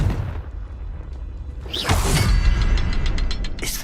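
In Hogwarts Legacy, a Confringo blasting spell goes off as a sudden booming burst with a whoosh and mechanical rumble after a quieter low stretch, followed by rattling debris-like clatter.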